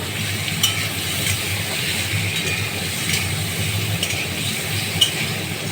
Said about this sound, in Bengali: একটু হালকা তেলে নেড়ে নেবো।